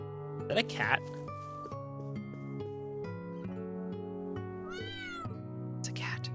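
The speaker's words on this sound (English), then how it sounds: "It's a cat. It's adorable." Cat in the game Trails of Cold Steel 3 gives a couple of high meows near the start and another toward the end, over steady background game music.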